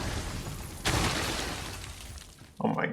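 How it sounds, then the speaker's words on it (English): Objects smashing in Dragon's Dogma II as a pawn wrecks a household's belongings, a sharp shattering crash followed by a loud burst of breaking debris near the end, with game ambience throughout. "Luke, stop smashing their stuff."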